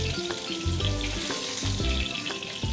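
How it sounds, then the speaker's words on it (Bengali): Bata fish fry in a pan of hot oil, giving a steady, close sizzle and crackle throughout, with a low hum underneath and no voices. "মাছগুলো ভালো করে উল্টে পাল্টে ভাজার পর একটা প্লেটে তুলে নিতে হবে"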